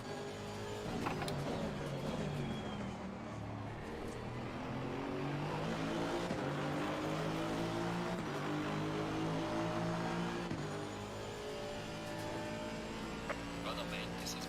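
An Audi GT3 race car in Assetto Corsa Competizione at Laguna Seca drones steadily at high revs, its engine note shifting through gears continuously while a person talks over it.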